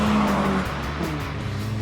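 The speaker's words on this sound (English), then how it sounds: "The phenomenal 205 GTI, a car that was fast, even with James May at the wheel." A Peugeot 205 GTI drives past with a loud, close engine drone that holds steady and then eases slightly over a couple of seconds.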